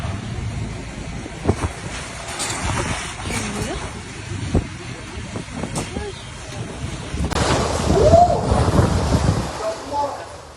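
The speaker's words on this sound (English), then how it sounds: "the storm tore across the island, flattening homes, uprooting trees, and leaving much of the nation in ruins" Hurricane Melissa storm on an island with 285 km/h winds: distant thunder cracks and rumbles over steady wind and rain noise, growing into a louder roaring gust near the end.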